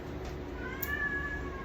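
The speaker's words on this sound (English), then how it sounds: "oh Winnie, I have a very young cat and she's over there trying to get my attention" A young cat meows once indoors, a drawn-out call that rises and falls over a steady low room hum, fairly soft and alone with no talking.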